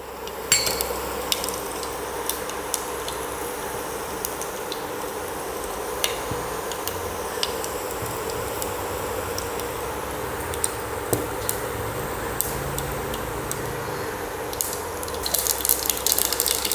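Steady frying sizzle of mustard and fennel seeds popping in hot oil for Chettinad karamani kuzhambu, with scattered sharp crackles throughout, close and fairly loud, no talking.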